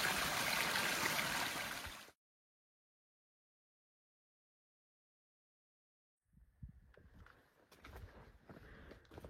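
Running water beside a hiking trail, a steady rushing flow for about two seconds, then a long silence before faint trickling and footstep-like rustles return.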